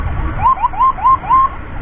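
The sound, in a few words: emergency ambulance siren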